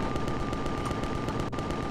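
Rapid turret gunfire in the space game Empyrion Galactic Survival (Reforged Eden), a steady stream of quick, fairly faint shots that sound distant and run through the whole moment with no talking.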